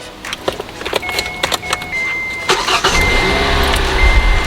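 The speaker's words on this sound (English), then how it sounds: "go ahead and put your master cylinder cap back on and then start up your car" A 2014 Kia Forte being started after brake work: keys jangle close by with a few clicks, then the engine cranks and catches into a steady idle that rumbles loudly to the end.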